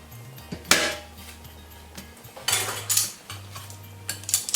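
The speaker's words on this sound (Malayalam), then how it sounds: "മൂന്ന് ഗ്ലാസ് വെള്ളം ചേർത്ത് ഒന്ന് ഇളക്കുക." A spoon stirs sago and water in a cooking pot for mango payasam, scraping and clinking against the metal. The sharp knocks come in irregular bursts, close and fairly loud, with quieter gaps between them.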